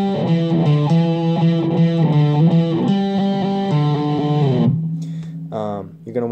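Seven-string electric guitar played through heavy distortion, a steady run of chugging palm-muted notes and chords with a sustained ringing tail, loud and up front, with a brief sliding bend near the end.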